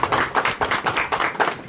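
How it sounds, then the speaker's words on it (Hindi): An audience at a welcome ceremony at a Gogaji temple in Adkasar claps in a brisk, steady rhythm. The loud, close hand claps fall about five per second in a short burst. "एक बार जोरदार ताली राकेश जी को।"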